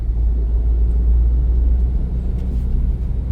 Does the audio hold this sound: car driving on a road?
yes